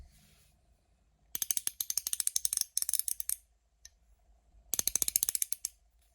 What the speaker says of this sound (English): I'm pretty sure some people want to hear how the ratchets sound.